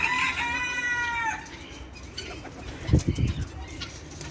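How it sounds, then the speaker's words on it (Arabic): Pigeons feeding their chick make a short bird call at first, then soft fluttering and rustling with a few low thumps near the end, all close and fairly quiet. "شايفين الحمامة وهي بتأكل ابنها؟"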